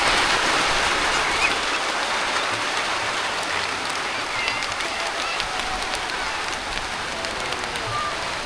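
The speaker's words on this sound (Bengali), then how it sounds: "মুষলধারে বৃষ্টি।" Heavy monsoon rain pours down on a river char island in Kurigram, Bangladesh, a dense, steady hiss of drops close by that holds evenly throughout with no break.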